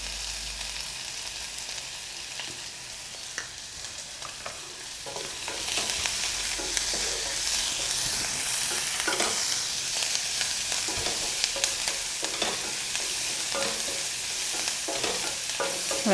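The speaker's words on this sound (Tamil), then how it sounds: "வெங்காயம் நல்லா வதங்கட்டும்." Onions sautéing in a pan for egg curry: a soft frying sizzle with a spatula stirring and scraping repeatedly, growing louder partway through and carrying on steadily with no voices.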